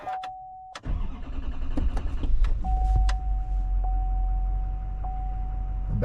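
A Chevy Duramax diesel pickup truck with a 2017–2023 engine restarts after a fuel filter replacement: a chime tone, then the starter cranks and the engine catches into a steady low idle, heard up close with the chime recurring.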